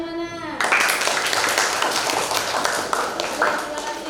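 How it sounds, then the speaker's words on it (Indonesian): Lively clapping from a classroom of students during an Indonesian lesson breaks out suddenly and holds as a dense, close patter of many hands. A voice is heard just before it starts. "Ya, tepuk tangannya mana?"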